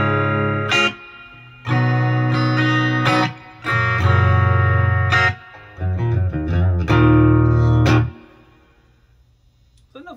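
Electric guitar through a Crate G1600xl amp head with reverb switched on, a few ringing strummed chords and a quick run of picked notes, each bursting loud and then fading into a lingering wash of reverb.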